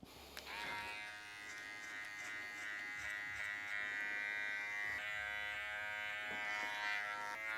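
Electric hair clippers fitted with a 6 mm guard cut hair during a taper fade, giving a close, steady motor buzz with a bright harmonic whine that runs almost continuously, with slight shifts as the blade moves.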